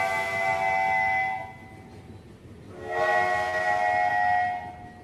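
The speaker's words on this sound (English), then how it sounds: "The Ghostlight Express lurches forward with 2 short blasts from the train's whistle." Locomotive whistle of a heritage passenger train gives two sustained blasts separated by a brief gap, loud and close, over a steady low rumble of the train starting to move.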